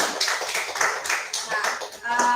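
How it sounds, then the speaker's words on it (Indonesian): Online class participants clap for a group in a video-call session, a scattered patter of claps spread across the clip with a voice murmuring underneath. "Kita beri tepuk tangan teman-teman."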